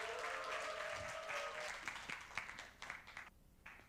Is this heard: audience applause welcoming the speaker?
yes